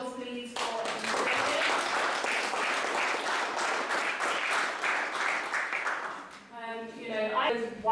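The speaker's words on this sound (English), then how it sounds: "Another round of applause, please" Sustained audience applause at an award ceremony in the Houses of Parliament, dense and steady for about six seconds, then fading as a speaker's voice takes over near the end.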